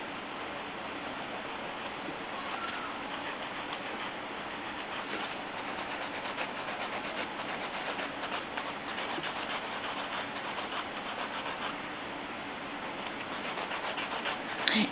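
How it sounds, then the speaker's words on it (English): A mild-grade nail buffer rubs steadily across a fingernail bed to remove its sheen, producing a continuous, close, even scratchy rasp that runs without pause and with no voices. "because this buffer is not so bad with the grade, it's like mild, I'm gonna use this to take off the extra sheen off the nail bed"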